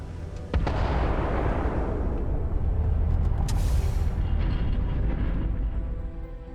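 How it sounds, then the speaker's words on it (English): Particle detonation explosion in the Starfield video game: a sudden heavy boom that bursts in and holds as a long, loud rumbling roar, tapering slightly near the end. "Particle detonation concluded."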